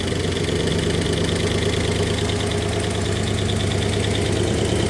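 A 1964 Oldsmobile 394 V8 idles steadily and close by, with a continuous low rumble and a faint ticking knock running through it, and no talk.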